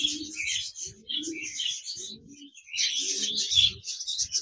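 Caged pet birds call in bursts, a male cockatiel and a group of Japanese budgerigars chirping and warbling in short overlapping phrases with brief gaps between.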